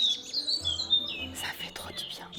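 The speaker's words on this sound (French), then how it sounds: "Écoutez-moi ces oiseaux, genre ça fait trop du bien." Birds chirp and tweet outdoors at a campsite, a scatter of high, bright calls near and far mixed with soft background voices and a low rumble.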